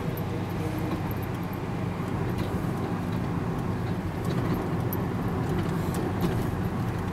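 Steady car traffic on a busy Tehran street near the Seyed Khandan bridge, a continuous loud rumble of passing engines and tires with faint light clicks on top.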